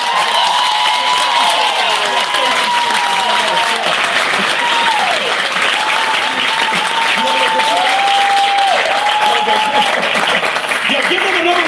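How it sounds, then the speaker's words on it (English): Loud sustained applause and cheering from a town hall crowd in Milwaukee's 3rd District, with voices calling out and whooping over the dense clapping throughout. "give them another round of applause for standing up"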